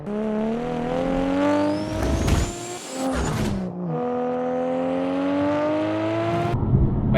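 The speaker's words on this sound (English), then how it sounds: "My favorite part about the exhaust has to be the pops." A 2021 F82 BMW M4 Competition with an inline-six engine revs up under load, its exhaust rising in pitch through two pulls with crackling pops on the lift-off between, loud and close with no speech.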